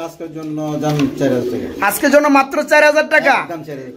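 Pigeons coo in a coop or loft where they are kept for sale, with soft repeated low calls mixed with nearby voices talking.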